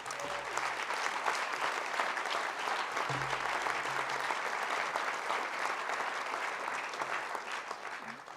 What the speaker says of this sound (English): would you please stand up for applause, is Mitch Kahn